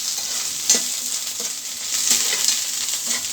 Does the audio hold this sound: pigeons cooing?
no